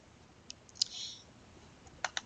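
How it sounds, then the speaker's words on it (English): A computer mouse clicks to approve a lab result in electronic lab-ordering software, a few faint, sharp isolated clicks spaced across a quiet background. "click the Approve button"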